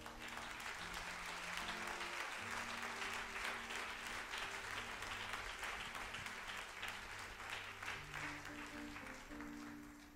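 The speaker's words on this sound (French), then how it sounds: "Bien-aimé, acclame pour l'amour de Dieu." A church congregation claps steadily through a Christmas Sunday sermon, a loud, dense wash of applause that holds for about ten seconds and fades slightly at the end, with no talking over it.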